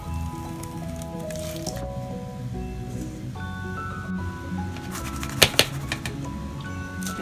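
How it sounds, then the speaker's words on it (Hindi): Moong dal khaman batter poured into a plate for steaming, a soft wet squishing pour with a couple of sharper splats near the end, over faint background music. "अब हम इस थाली में डाल के स्टीम करेंगे"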